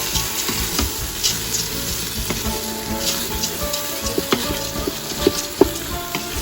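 Shish kabob ingredients sizzle steadily in a pan over a steady frying hiss, with a few sharp clinks and scrapes as a spoon stirs them near the end.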